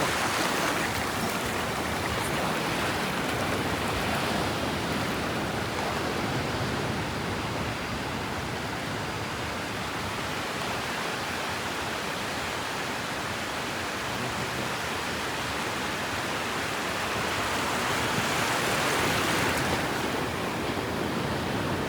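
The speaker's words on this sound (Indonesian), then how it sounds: "Ini tiba-tiba ombak jadi besar" Ocean waves break on a beach on the southern coast, a constant close wash of surf that swells louder toward the end, with no talk.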